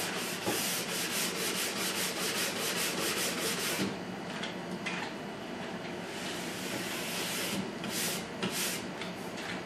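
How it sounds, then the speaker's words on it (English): A nylon brush scrubs back and forth across a waxed ski base, making a dense, close, hissing rub in quick repeated strokes. The strokes are sharper at first and then settle into a steadier swish. "The nylon brushes you can scrub with and move back and forth."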